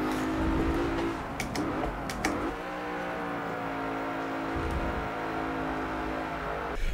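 Racing car engine in Forza Motorsport 7, loud and close, revving high then easing into a steady drone with a few sharp gear-shift breaks and brief bursts early on, no talking.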